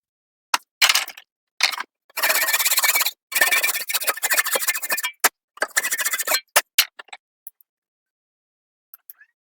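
Hand-sawing a 1/16-inch blade slot into a wooden crankbait body: short rasping strokes in uneven bursts, a few quick passes then longer steady sawing, close and dry, ending in scattered light taps.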